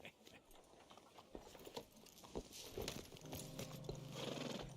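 Horse hooves clip-clop steadily in Red Dead Redemption 2, a run of close, patter-like footfalls that builds, then a drawn-out whinny rises over them near the end.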